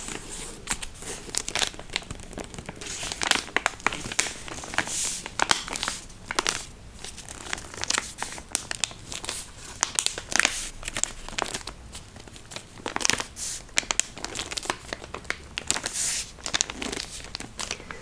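Starry wrapping paper on a mystery book parcel crinkles and tears close up in a long run of sharp, uneven rustles and crackles, with brief pauses between bursts and no voices.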